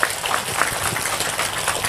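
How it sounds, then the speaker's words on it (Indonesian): Audience at a Ramadan religious gathering in Ngombol, Purworejo clapping together, a steady wash of applause throughout the short stretch with no clear pauses. "Tepuk tangan dhisik kok."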